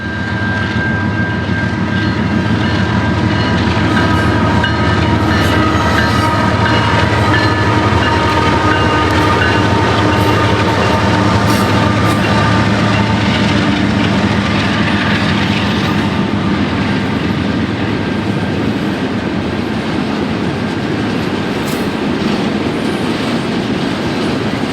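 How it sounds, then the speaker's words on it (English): A Canadian National intermodal repo train rolls on the former EJ&E connection track, a loud continuous rumble with clattering wheels and a faint squeal, close by and steady throughout, with no talking. "watch an intermodal repo train connecting off the trunk and onto the J"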